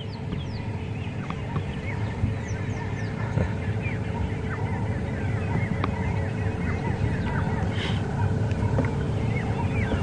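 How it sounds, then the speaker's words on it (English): Dawn chorus in the African bush during a morning safari drive, many birds calling and overlapping at a distance above a constant low background hum, steady throughout. "So we're having a wonderful dawn chorus today."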